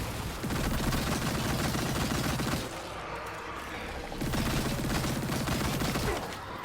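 Rapid gunfire bursts from the action game Immortal: Unchained, loud sustained volleys with a short lull in the middle before firing resumes, game effects layered over it.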